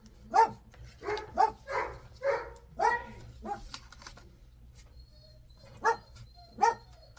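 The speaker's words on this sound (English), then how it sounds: "now you're going to hear dog barking" A dog barks repeatedly in quick bursts, pauses, then gives a couple more barks, fairly close and clear.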